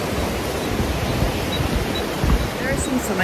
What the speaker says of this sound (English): This is a little river. It's running really fast from all the snow melt.